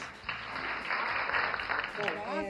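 A crowd applauds a team at an urban arts program, with steady broadband clapping sustained throughout at moderate distance and a voice speaking over it near the end.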